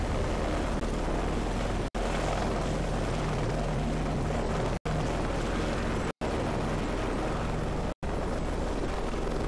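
Heavy rotor thrum of a helicopter in Heliborne, loud and continuous, broken by a few abrupt dropouts, with no talk.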